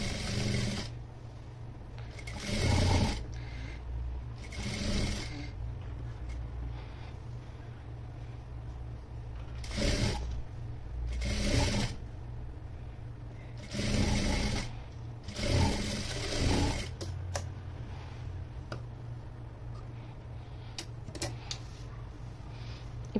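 A sewing machine stitches an anarkali frock in several short, separate bursts of rapid mechanical whirring, close and moderately loud, with quiet gaps between runs.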